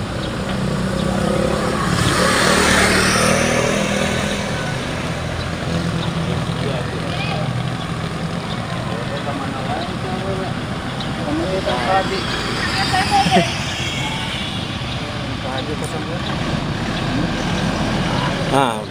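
Pak Haji's car setting off in a wedding convoy in a Garut village, engine and traffic rumble running steadily beneath constant overlapping chatter of people nearby.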